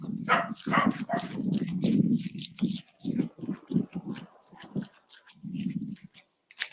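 A dog named Molly barks repeatedly indoors, a run of loud, close barks in quick bursts with short pauses, a second cluster near the end.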